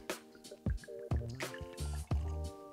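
Irish whiskey pours into a glass in glugging bursts, with wet drips and splashes, close up and fairly quiet.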